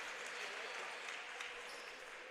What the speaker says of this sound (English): As Halbert exits to a round of applause